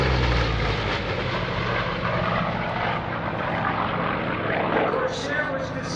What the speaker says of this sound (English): Here's the Corsair.